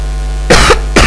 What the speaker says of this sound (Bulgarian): Съжалявам, че кашлям.